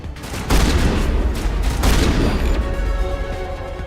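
Gunfire in Mass Effect 1 as sustained bursts of loud, rapid shots and booms, several sharp volleys over a constant roar of combat noise, close and dense.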